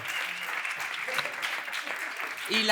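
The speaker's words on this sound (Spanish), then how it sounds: "Un aplauso para Jorge" Audience applause for a quiz contestant named Jorge at a live Spanish interview event, a quiet, steady wash of clapping with some voices talking over it.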